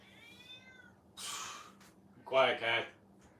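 A house cat gives one drawn-out, faint meow in a quiet room during a home squat workout, followed by a breathy noise burst and someone speaking closer and louder.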